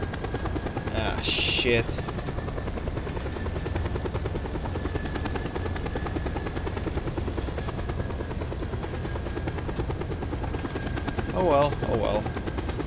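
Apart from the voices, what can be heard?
helicopter chasing, from the video game Just Cause 2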